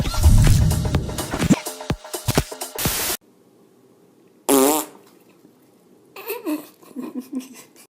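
Loud fart sounds burst out several times, rapid and sputtering, separated by silent gaps, with faint giggling and babble nearby.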